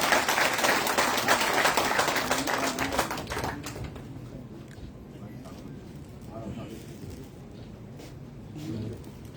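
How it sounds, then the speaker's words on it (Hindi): An audience at a BJP felicitation event for a newly nominated Rajya Sabha MP breaks into loud clapping, dense at first and then fading over several seconds into scattered claps under murmuring voices. "जोरदार ताली बजाएं।"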